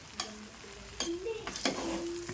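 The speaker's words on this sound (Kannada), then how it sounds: "ಈಗ ಒಂದು ಐದು ನಿಮಿಷ ಚೆಂದ ತಿರುವಿ ಫ್ರೈ ಮಾಡ್ಕೊಂಡು ಚಿತ್ರಾನ್ನ ರೆಡಿ ಆಗ್ಬೇಕು" Lemon rice (chitranna) being stir-fried in a pan, with a few sharp scrapes of a spatula over a soft, steady sizzle, fairly close and with no talking.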